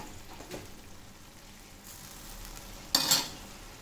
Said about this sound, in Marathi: तेल सुटेपर्यंत आपल्याला हे भाजून घ्यायचं आहे